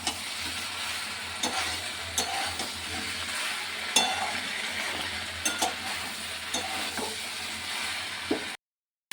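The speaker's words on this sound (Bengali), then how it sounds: "আবার একটু নেড়ে নিই।" Onion-tomato gravy with a little added water bubbles in a frying pan while a spoon stirs it, with a steady sizzle broken by scattered scraping clinks, before the sound cuts to silence at the end.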